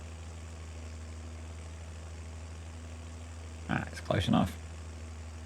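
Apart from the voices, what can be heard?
tractor engine in a farming video game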